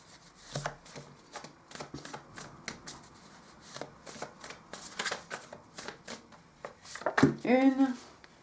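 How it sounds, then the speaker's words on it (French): Tarot cards are shuffled in a steady run of crisp riffles and flicks close by. Some speech is faintly present behind them, and a louder voiced sound comes near the end. "J'ai mes cartes qui se dépiotent."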